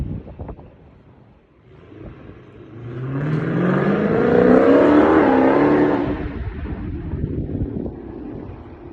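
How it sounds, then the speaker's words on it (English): A V8 car engine revs up and down as it passes by, rising in pitch and loudness to a strong, close roar before fading away, with wind buffeting the microphone. "That's a V8. Ooh, I love the sound of a V8."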